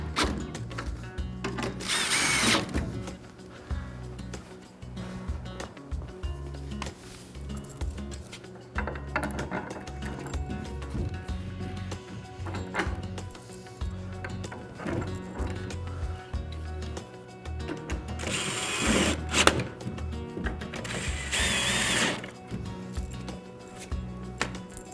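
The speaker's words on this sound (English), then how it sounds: "Tighten the bolts." A power tool tightens bolts on a raised garden bed during assembly, its whirring bursts coming and going repeatedly at close range over steady background noise, with pauses between runs.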